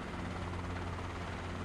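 A Robinson R22 helicopter in a flight video game, its rotor giving a steady, dense whooshing drone that stays loud and constant throughout.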